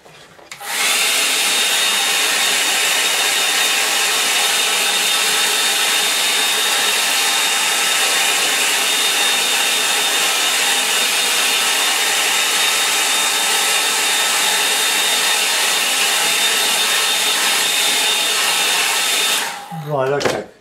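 A hair dryer blows steadily on a line-and-wash painting to dry black paint, a loud constant whooshing drone lasting about twenty seconds, switched on at the start and off at the end.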